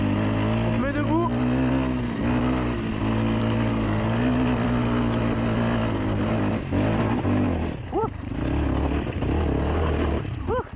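A Beta RR 125 LC two-stroke enduro motorcycle in second gear on a steep hill climb, its engine droning and revving loud and close with rising and falling pitch, sometimes bogging.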